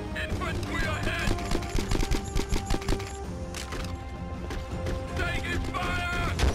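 Gunfire rattles in the war game Conflict Desert Storm 2 as rapid bursts of automatic shots, a quick regular train of cracks mid-clip. Voices and battle noise sound around the shooting.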